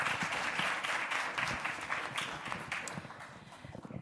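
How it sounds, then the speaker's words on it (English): Applause from an audience at a forensic science research symposium, a dense, steady clatter of many hands that thins out toward the end. "A round of applause."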